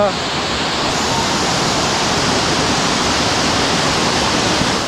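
Hidlumane waterfall near Kodachadri in heavy monsoon flow, a loud, steady, close roar of rushing water that fills the whole clip without a break.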